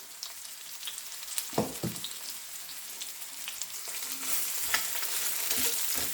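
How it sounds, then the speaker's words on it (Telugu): Paneer cubes frying in hot oil, a continuous crackling sizzle with scattered pops and stirring scrapes, growing busier toward the end and heard close with no speech. "ఇప్పుడు ఇది కూడా ఆయిల్లో వేంపాలి కొంచెము."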